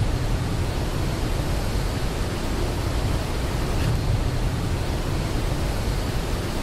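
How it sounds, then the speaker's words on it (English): A steady wind sound effect laid over a grass animation, a continuous broadband rushing hiss at even loudness throughout, with no talking. "Adding some wind sound to make it look like the grass is moving."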